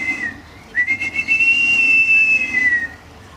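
A man whistles in long sustained tones imitating a bird of prey, rising and holding a steady high pitch with a short break near the start, clear and fairly close, during an Aboriginal dance performance on the Gold Coast.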